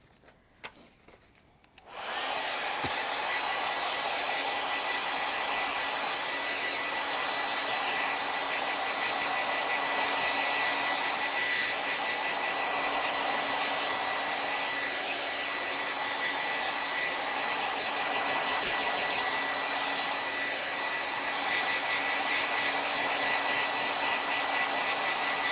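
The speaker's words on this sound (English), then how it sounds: "Looks like maybe it could use a little bit of the hair dryer." A hair dryer switches on after a brief quiet moment and runs as a steady, even whir for the rest of the clip, drying paint on a canvas, close and constant with no talking.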